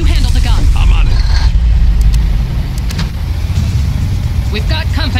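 A car engine runs steadily while driving in the video game Far Cry, a low rumbling drone with slight revving, close and loud, under brief character speech at the start.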